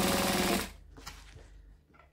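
Sewing machine basting fabric an eighth of an inch from the edge, a loud, close, rapid stitching run that stops abruptly after about half a second, leaving faint handling clicks.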